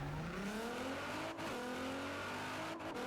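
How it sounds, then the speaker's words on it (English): An engine-swapped Nissan GT-R accelerates hard in Forza Horizon 4, its engine note rising steadily through the gears with brief dips at each shift, a continuous loud racing roar with no talking over it. "let's move over to the GTR with the engine swap."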